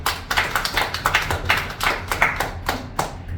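Audience clapping at a certificate graduation ceremony, a steady run of about a dozen sharp, close hand claps in an even rhythm, with no voices over them.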